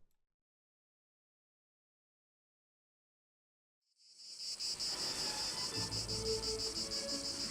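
After several seconds of silence, a dense, loud chorus of cicadas starts abruptly and keeps shrilling steadily and evenly, with no voices.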